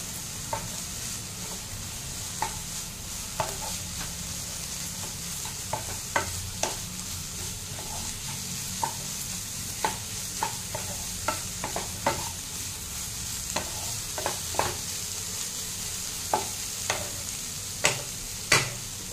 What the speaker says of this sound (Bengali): ভালো করে মিশিয়ে নিয়ে একটু হাই ফ্লেমে এবার একটু এটাকে ভেজে নেব।